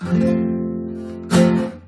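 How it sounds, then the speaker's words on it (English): An F barre chord rings out on a guitar, strummed once and left to sustain, then strummed again about 1.3 seconds later with a bright attack that slowly fades. "That's our F bar chord."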